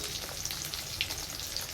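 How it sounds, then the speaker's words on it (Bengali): Four pieces of fish fry in hot oil, giving a dense continuous crackle and sizzle close by, with a faint tap or two from a utensil. "চার পিস মাছই গরম তেলে দিয়ে দিয়েছি ভাজার জন্য"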